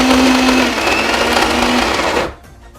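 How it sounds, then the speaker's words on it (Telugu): A mixer grinder whirs loudly as it blends mutton kofta paste for mutton curry, a steady high motor roar with a sustained tone that runs about two seconds, then cuts off abruptly into a faint rattle. "మిక్సీ చేసుకుందాం."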